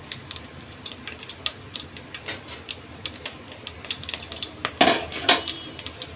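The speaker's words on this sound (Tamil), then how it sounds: "எண்ணெய் காஞ்ச உடனே கடுகு வெந்தயமும் போட்டுக்கலாம்." Mustard and fenugreek seeds hit hot oil and crackle with quiet, scattered pops and ticks that come irregularly, then build into a brief louder burst of spattering near the end.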